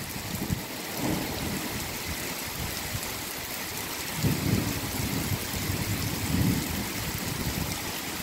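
Heavy rain falls hard in the first thunderstorm of the year in Meyzieu, a steady roaring hiss with low rumbles of thunder rolling in near the start and twice more later, with no talking.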